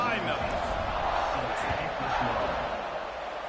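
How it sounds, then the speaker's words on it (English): Stadium crowd in the College Football 26 video game roaring steadily at kickoff of an Ole Miss versus Florida game in the fourth quarter, a dense sustained cheer with a commentator talking over it. "this crowd now ready to get behind them"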